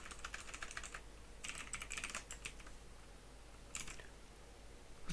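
Typing on a computer keyboard in short bursts of quick, light key clicks separated by pauses, close and fairly quiet with no talking.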